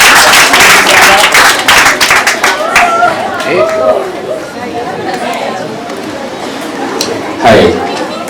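Audience clapping and cheering at a talent search show, a loud burst of applause in the first seconds that fades into crowd chatter, with a brief swell near the end.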